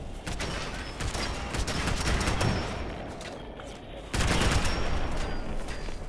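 Automated turret gunfire in Fallout 4 inside a USAF missile silo, a dense continuous barrage of rapid shots that swells louder near the end, with no speech over it.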